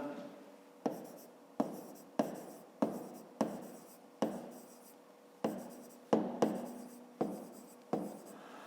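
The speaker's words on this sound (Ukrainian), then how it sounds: "Записуємо тоді об'єм. паралелепіпеда." Pen writing by hand as a cuboid's volume formula is noted down for a fifth-grade maths problem, a steady run of about a dozen close scratchy strokes in even rhythm, alone and clear.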